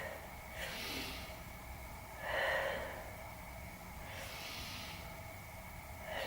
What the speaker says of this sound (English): Big breaths into the rib cage